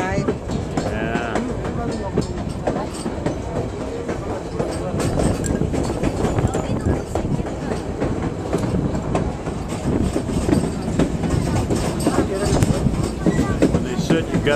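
A train rolls steadily along the rails on a passenger trip, with a continuous loud rumble and rhythmic clickety-clack close by, and voices faintly in the background.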